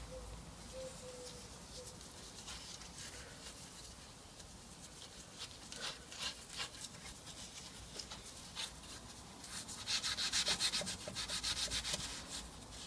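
A brush scrubs grime off a car engine bay after the alternator has been removed, producing soft repeated rubbing strokes that grow louder and faster near the end, with faint birdsong in the background.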